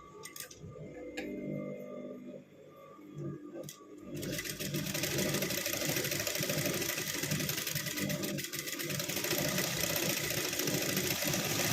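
A beginner's sewing machine stitching: a few faint ticks and clicks, then from about four seconds a steady, fast mechanical whirring hum that runs on without a break, close but fairly soft, with no speech.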